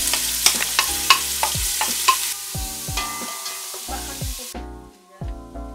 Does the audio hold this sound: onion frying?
yes